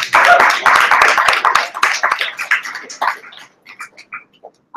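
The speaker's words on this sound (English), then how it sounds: "Another round of applause for Alex." Audience applause at a literary salon: a full burst of clapping from a seated crowd that tapers off after a few seconds into a few scattered claps, ending near silence.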